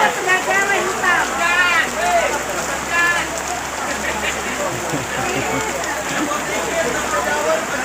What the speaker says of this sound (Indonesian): Gimana Pak Ustadz ini hujan?